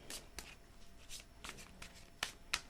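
Tarot cards shuffled by hand in a short run of crisp riffling bursts, a few separate shuffles spaced across a couple of seconds, fairly close and quiet with no talk over them.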